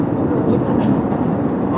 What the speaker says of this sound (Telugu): ల్యాండింగ్ అవుతుంది ఇప్పుడు ఫ్లైట్